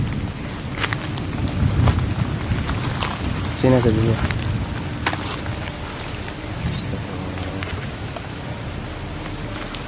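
Steady rain falls throughout during a downpour, a continuous hiss of drops on surfaces with occasional louder rumbles that may be thunder, while people talk over it.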